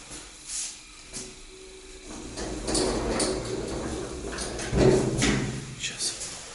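An electric elevator door, from a lift rated at 1 m/s with 320 to 500 kg capacity, slides with low rumbling and clunks over several seconds amid faint background voices.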